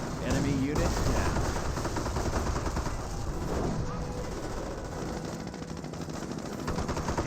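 Gunfire in Company of Heroes, a sustained battle of machine-gun bursts and rifle shots over a constant rumble, with faint voices mixed into the din.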